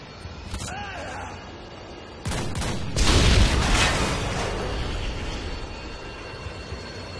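Harrier jets roar in for a strike in Modern Warfare 2, a jet rush building around the third second into a loud, sustained boom and rumble of bombardment that slowly fades.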